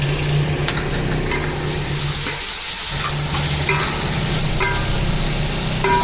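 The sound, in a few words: tomatoes and mint frying and stirred in a pan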